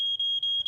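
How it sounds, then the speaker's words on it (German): A smoke detector in a home kitchen sounds a shrill, piercing high-pitched beep, chirping in rapid short pulses, loud and close. "Und der Rauchmelder piepst auch."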